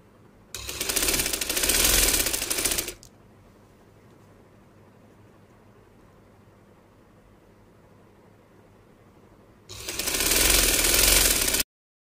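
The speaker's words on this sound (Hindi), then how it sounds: "बिल्कुल इसके किनारी पे सिलाई लगाएंगे, ठीक है, ताकि इलास्टिक के ऊपर हमारी सिलाई ना आए" A sewing machine stitching along the elastic edge of baby boy pajamas runs in two loud, steady bursts, one near the start and one near the end, with a quiet pause between them.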